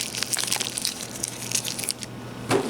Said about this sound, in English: Now I can crumple it up into a big little ball